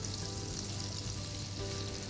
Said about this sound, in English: I'm gonna add my chopped onions.